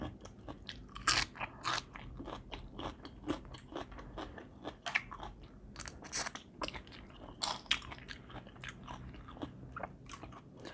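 Someone eating spicy Thai blood cockle salad with the shells on, making close, busy crunching and cracking bites with wet chewing between them, steady and fairly loud.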